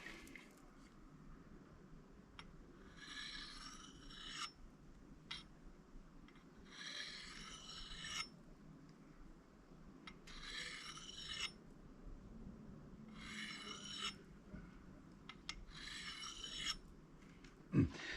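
An axe edge is filed in repeated bursts of rasping strokes, each run lasting about a second with short pauses between, close and fairly quiet.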